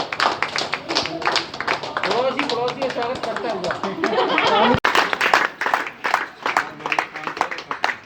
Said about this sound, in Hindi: सबसे पहले तो एक बार तालियां हो जाए जोर से।